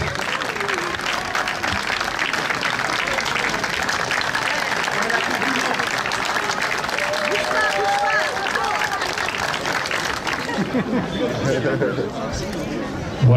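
A sustained, dense round of crowd applause at a Swiss green city label award ceremony in Ecublens, steady and loud for about ten seconds before thinning, with chatter and voices mixed in underneath.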